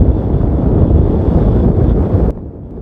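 Strong, violent wind buffets a small Autel Nano Plus drone's microphone as a dense, roaring rumble that stays steady, then drops abruptly to a quieter hiss near the end.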